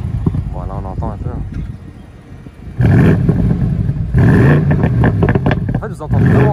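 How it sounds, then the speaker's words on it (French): A BMW M850i convertible's V8 roars loudly through both exhaust pipes in sustained, throaty bursts that swell and cut in and out, while someone talks over it. "vous entendez vraiment que le V8 run. Là, vous avez les deux pots"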